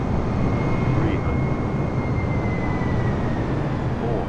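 An airplane engine in Microsoft Flight Simulator 2020 holds a loud, steady roar with a faint whine running through it as the throttle is added.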